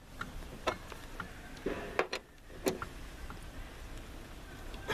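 A 17 mm nut on a Peugeot 806 seat belt mount being loosened, a series of small sharp metallic ticks and clicks at irregular intervals, close and fairly quiet.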